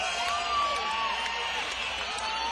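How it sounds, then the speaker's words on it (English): A large crowd at an outdoor jazz concert on the Philadelphia Museum of Art plaza cheers and claps in a dense, continuous roar. A whistle rises through the noise at a steady, sustained level. "I'd like you to give this lady that is going to sing it for us a nice Philadelphia round of applause now."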